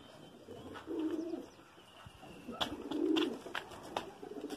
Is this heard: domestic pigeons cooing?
yes